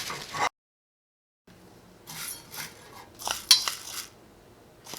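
Roasted rice scooped from a hot pan into another vessel, with a few scattered scraping and rattling strokes of a spoon against metal at close range, separated by brief quiet gaps.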